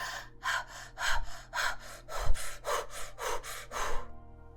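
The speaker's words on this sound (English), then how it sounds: "And the exhale will sound like this." Slow, even exhaling close to the mic: a long series of airy, rhythmic out-breaths, each a soft rasping whoosh, ending in quiet.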